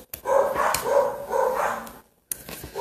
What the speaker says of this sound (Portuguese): Ó, os cachorros.